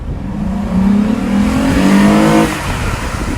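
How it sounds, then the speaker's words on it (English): A Lexus IS250 fitted with a cold air intake revs its engine, a sustained rising drone that climbs in pitch, holds, then drops off, loud and close with no talking. "the cold air intake overall, the sound that it produced was actually more than I expected"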